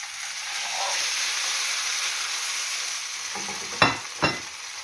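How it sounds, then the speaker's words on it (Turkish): Leftover pasta frying in a pan, a steady close sizzle and hiss, with two sharp scraping knocks near the end as a spoon presses it down. "Gördüğünüz gibi arkadaşlar makarnamı kızarttı."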